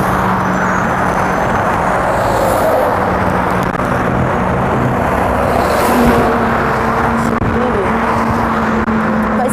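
Cars drive past a pedestrian crossing in a steady stream, a continuous loud whoosh and engine hum with passes swelling and fading, close by.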